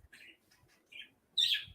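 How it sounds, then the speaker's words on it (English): A parrot indoors gives a few faint chirps, then a louder, brighter squawk near the end, heard with no talking over it. "So, he's a parrot."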